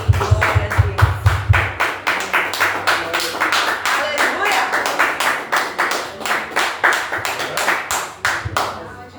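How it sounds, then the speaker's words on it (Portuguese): A church congregation claps for Jesus, a rhythmic, fairly close round of hand claps with sharp individual strikes that keeps going steadily through the whole stretch. "Uma salva de palmas para Jesus."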